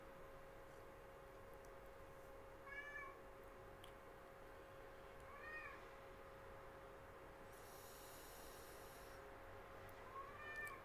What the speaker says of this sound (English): He's been meowing a lot today.